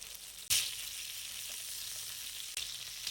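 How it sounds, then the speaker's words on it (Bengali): Kebab frying in a frying pan over medium heat, a steady close sizzle with a sharp crackling burst near the start and another later, no talk. "প্রত্যেকটা পাশ দুই থেকে তিন মিনিট কুক করবেন চুলের আঁচ মিডিয়াম রেখে"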